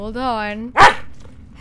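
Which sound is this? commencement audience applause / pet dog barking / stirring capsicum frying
pet dog barking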